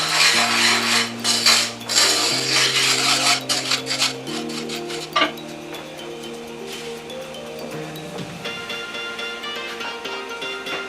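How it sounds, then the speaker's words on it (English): Breadcrumbs with smoked paprika and pink Himalayan salt are stirred and toasted in a pan, making close, repeated dry scraping strokes over a steady tonal hum. "Give that a good stir and toast these up a bit."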